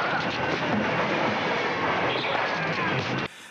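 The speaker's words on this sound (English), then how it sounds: "in this big fight where there's like a train drives by" A train rolls past in a film fight scene with a dense, loud rumble and rhythmic wheel clatter that fills the clip, then cuts off abruptly just before the end.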